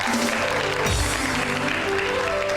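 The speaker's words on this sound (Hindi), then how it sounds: "बहुत सारी तालियां इनके लिए।" Studio audience applause on a Hindi television show, steady and fairly loud for a couple of seconds, with a faint musical tone running underneath.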